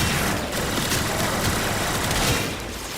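Continuous loud bursts of automatic gunfire in the video game Warframe, dense and unbroken across a few seconds with no talk.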